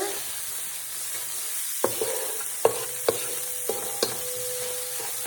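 Broccoli in garlic sauce sizzles steadily in a pan as a utensil stirs it, with several sharp knocks and scrapes against the pan over the continuous frying hiss and no talking.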